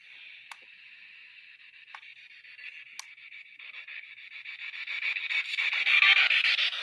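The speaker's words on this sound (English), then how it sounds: "So it's going to scan frequencies and sound like this." A spirit box rapidly scanning radio frequencies, a harsh hissing static sweep with sharp clicks at intervals, growing louder and noisier toward the end.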